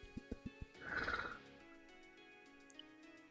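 A horse's hooves clip-clop in four quick beats, then a loud, shrill whinny rings out and fades into quiet room tone.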